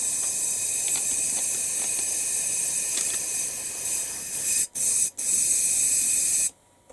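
An airbrush sprays thinner during cleaning, giving a steady close hiss that holds for several seconds, breaks off twice briefly, then cuts out near the end.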